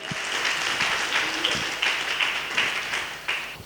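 A church congregation applauds and cheers for the Lord, a full, steady wash of clapping from a large crowd with a few louder bursts rising through it, sustained throughout.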